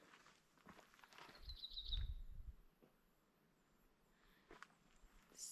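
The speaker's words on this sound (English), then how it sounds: "So still. All you can hear is bird song." Faint, sparse birdsong in still New Zealand woods, a brief clear call rising from near silence alongside soft nearby footsteps.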